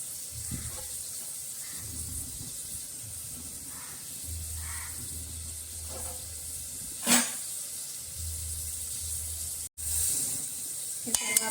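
Soft sizzling of halved tomato and mixed lentils roasting in a pan for khichdi, a faint steady crackle with a few louder clinks and a voice talking quietly in places.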